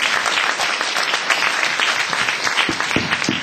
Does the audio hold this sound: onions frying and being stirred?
no